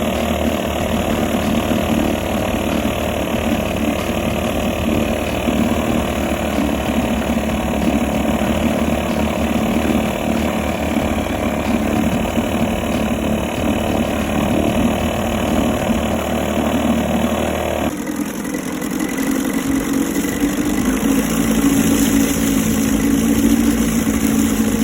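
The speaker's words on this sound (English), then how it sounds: "I'm just gonna put it back together and then show you how this motor is going to run" A 1969 Evinrude Lightwin 4 hp outboard motor runs steadily after a carburetor rebuild, a loud continuous drone with no voices, its pitch and tone shifting near the end as the engine settles into a lower idle.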